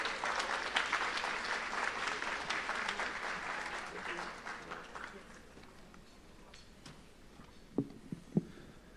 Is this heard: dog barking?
no